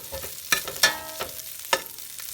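Browned beef strips sizzle in a skillet while being lifted out, with soft frying hiss under a few sharp scrapes and clinks of the utensil, close and brief.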